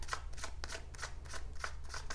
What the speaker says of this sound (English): I do like to just show you that I'm shuffling online so you don't think I'm setting these cards up